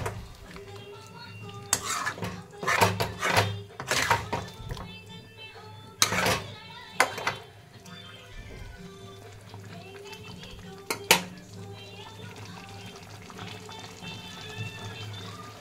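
Meat stirred in yogurt masala in a pan, a spoon scraping and clinking against metal in irregular bursts over a low steady sizzle, loud at first and quieter later.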